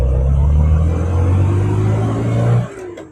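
A 1970 Austin-Healey Sprite MkIV driven with a steady, loud low engine drone and rising rev pitch, then the engine note drops away abruptly near the end.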